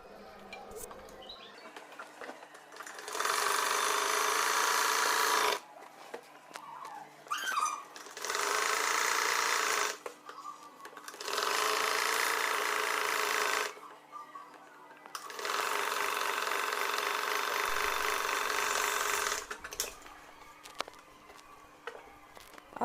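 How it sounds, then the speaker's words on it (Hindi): A sewing machine runs close by, stitching a pin tuck kurti in four long bursts of several seconds each, separated by quieter pauses with faint handling sounds and a little birdsong in the background. "यहाँ पे अब हम सिलाई लगा देंगे।"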